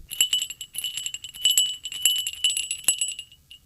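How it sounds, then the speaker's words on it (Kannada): A cow's bell rings in a yard in the early morning, clanging in quick irregular clusters of bright metallic strikes, close and clear with nothing else around. "ಅಂಗಳದಲ್ಲಿ ಮೊಳಗುವ ಹಸುವಿನ ಗಂಟೆಯ ಶಬ್ದ"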